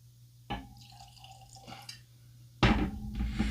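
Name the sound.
pouring Benchmark bourbon whiskey into a glass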